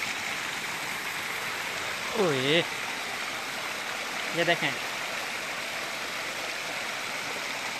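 Rushing water pours down from the mountains of Karoonjhar near Nagar Parker after rain, a steady loud roar throughout, while someone briefly speaks over it twice.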